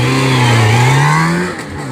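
A rally car launches from a special stage start at Anville during the 2024 Rallye de Charente, its engine revving loud and close with rising pitch before easing off as it pulls away.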